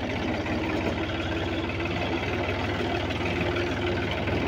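Tractor engine running near flooded farmland, a steady droning idle that is close and continuous with no talking.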